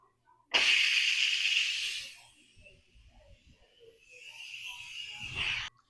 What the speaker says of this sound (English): Now the Instapot is still technically under pressure, so I'm just going to vent it.